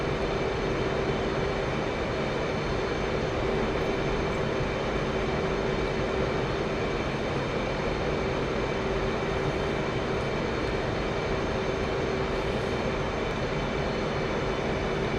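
F/A-18C jet landing on an aircraft carrier in the DCS World flight simulator: a steady, loud, broadband engine roar with a constant whine, unbroken for fifteen seconds, and no voices.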